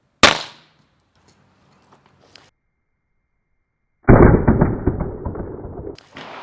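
A Model 3 rifle fitted with a 3D printed suppressor fires mini mag ammunition: one sharp report at the start, then faint clicks, and a second loud, longer-ringing shot near the end.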